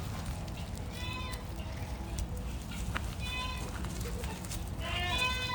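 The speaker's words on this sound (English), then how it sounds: "There's the crying goats that I need to get out." Goats bleating in an upper barn on a farm: three short bursts of wavering bleats at a moderate distance over a constant low rumble of background noise.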